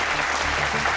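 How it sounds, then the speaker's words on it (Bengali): Audience applause for a chartered accountant volunteer on a stage magic show, dense steady clapping filling the whole moment, loud and close with a faint crowd murmur underneath. "জোরে হাততালি"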